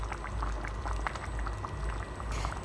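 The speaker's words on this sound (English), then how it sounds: "as you can see, it's bubbling away" Nepali fish curry gravy bubbles on medium heat in a pan, a steady close crackling simmer with scattered pops and plops throughout, and no talking.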